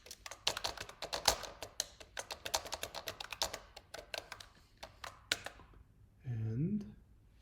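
Someone types a password on a computer keyboard while restoring an AWS DeepLens to factory settings, producing a quick, irregular run of close, crisp keystrokes that thins out before a short spoken remark at the end.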